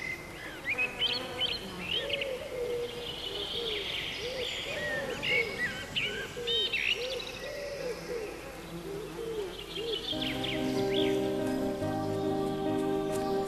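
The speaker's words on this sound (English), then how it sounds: "can listen to the singing of the birds, completely uninterrupted" Several birds sing and chirp in a forest in varied bursts, with a soft cooing, over a faint background patter and steady hum.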